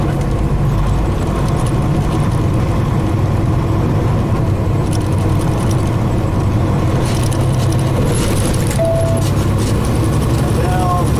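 A truck engine with a 13-speed transmission runs steadily through a split-shift downshift, a loud continuous low rumble and drone with slight shifts in pitch, close and constant throughout.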